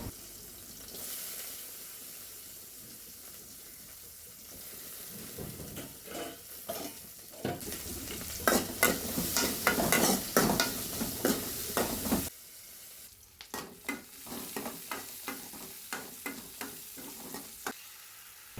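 Onions fry with a steady sizzle for mutton liver gravy while a utensil scrapes and clatters against the pan in quick, irregular strokes, loudest in the middle.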